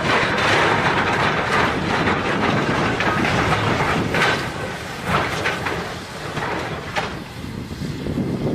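A train carrying police reinforcements approaches Glenrowan, Australia, with a continuous loud rolling rumble and rhythmic rail clatter throughout and no voices.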